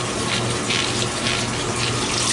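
A washing machine fills with water in an outdoor laundromat, giving a loud, steady gushing rush up close with no break.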